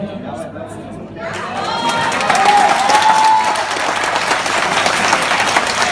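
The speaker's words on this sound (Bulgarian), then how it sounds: "Аплодисменти." Guests at a Bulgarian wedding break into loud, sustained applause mixed with crowd chatter, following a quiet moment with a speaker's voice.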